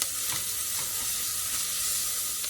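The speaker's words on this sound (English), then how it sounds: "I'm going to add in our carrots" Diced carrots hitting a hot pan of sizzling oil for a vegan white bean and spinach soup, a loud, continuous close-up hiss and crackle with no talking.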